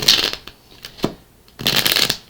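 Tarot cards are riffled in two quick shuffles, crisp and close, separated by a few soft taps.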